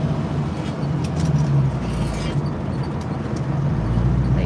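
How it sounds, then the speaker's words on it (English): Engine of a 1968 Ford Mustang running in traffic, a steady low rumble that stays close and continuous with no speech over it. "you can hear the engine, the RPMs drop"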